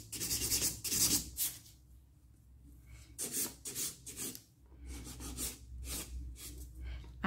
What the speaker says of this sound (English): Then I just go on the side, my normal filing routine.